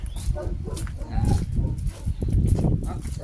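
A neighbour's herd of goats mills about close by, a dense low rumble of hooves, shuffling and occasional bleats and calls spread across the scene, with a voice speaking faintly beneath it.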